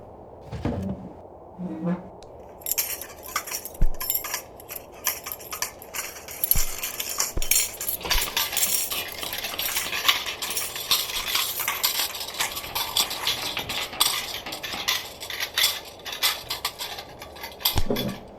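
Foley of someone eating noodles with cutlery: close clinks and scrapes of utensils against a dish, irregular stirring and slurping-like rustles repeating throughout, fairly loud and near, with no talking.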